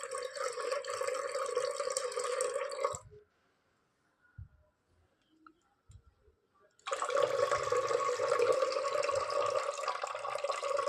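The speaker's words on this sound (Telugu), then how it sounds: "దట్టి వాటర్ మొత్తం కంప్లీట్గా ఆల్మోస్ట్ బయటికి వెళ్ళేంత వరకు వెయిట్ చేయాలి" Dirty water from washed butter pours out in a steady rushing stream, stops for a few seconds with faint drips and knocks, then gushes again just as strongly, close by.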